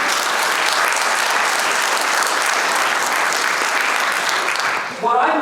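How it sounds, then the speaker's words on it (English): An audience at a Rotary talk gives sustained, even applause, a dense wash of clapping that dips and is cut off as a voice starts speaking at the very end. "a round of applause"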